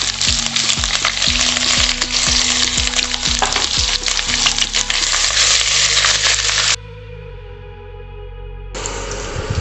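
Finely chopped ginger hits hot oil in a frying pan for chicken chowmein, producing a loud, dense sizzle with a quick run of spatula scrapes early on before the sound briefly drops away and returns.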